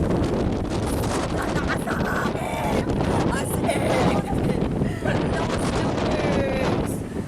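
Strong wind buffets the microphone outdoors at Dingalan, Aurora, a steady loud roar running through the whole stretch, with people talking over it.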